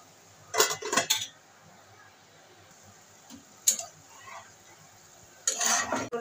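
A lid goes onto a pot of pointed gourd cooking over a low flame: several quick metallic clinks and clatters at the start, a single sharp clack midway, and another rattling burst at the end, with quiet between.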